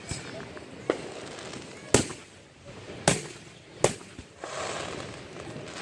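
A local Fourth of July fireworks show bursts in four or five sharp distant booms spaced about a second apart, with people chatting in between.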